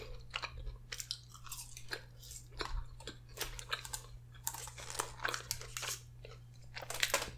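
Crunchy Parmesan cheese fries being chewed up close at an Italian food mukbang, with repeated crisp bites and steady crunching, loud and close with no talk.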